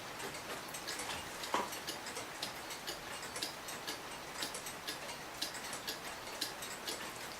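Faint, fairly regular ticking from a New England wall clock's pendulum, soft clicks recurring about every second over a steady hiss.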